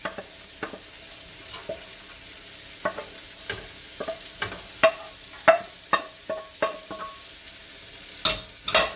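Diced vegetables for a hearty cheeseburger soup sautéing in a pan, with steady sizzle beneath frequent sharp scrapes and knocks of a spoon stirring, the strokes irregular and close, no one talking.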